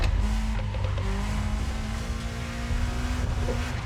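Honda Integra DC2 with a VTEC engine in The Crew Motorfest racing game, revving steadily with a sustained loud engine drone and rising harmonic tones throughout.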